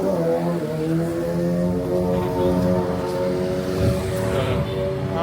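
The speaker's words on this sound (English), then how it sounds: "Ain't nobody on this street revving up that damn bike." A motorbike revs on a street near a beach in Bali, its engine droning with rising and falling harmonic tones over several seconds, fairly close and steady, with no talk.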